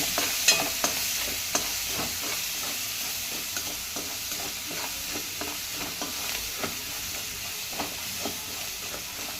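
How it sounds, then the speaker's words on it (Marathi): Chilli, garlic, coriander and crushed peanuts sautéing in a hot pan: steady sizzling hiss with repeated scraping stirs of a spatula, close and clear, with no voices. "हे भरडा शेंगदाणे पण टाकून देऊया आणि छान परतून घेऊया"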